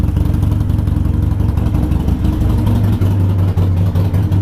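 A Harley-Davidson motorcycle engine runs close and loud as the bike pulls away for a ride. Its deep, throbbing rumble holds steady throughout, with no speech.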